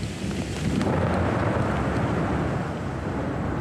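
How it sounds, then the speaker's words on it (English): Deep, continuous rumbling roar of thunder in an electrical storm over flat Namibian country, heard from up a tree; loud and sustained throughout with broadband wind-like noise, no talking. "Up a tree in the middle of an electrical storm, in the middle of the flattest country in the world."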